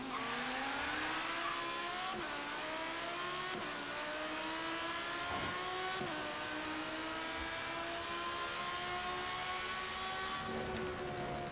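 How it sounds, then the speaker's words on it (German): A car in Forza Horizon 3 goes to full throttle from a standstill, its engine revving hard and climbing in pitch through several sharp gear shifts. The roar is loud, close and steady, with no voices. "So, ich sag aus dem Stand einfach mal Vollgas."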